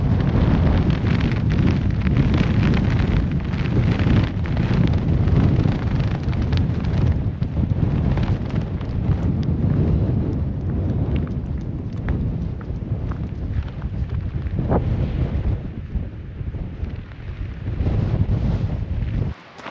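Gale force wind on a Lake District fell buffets the microphone with a constant loud, low roar that barely lets up.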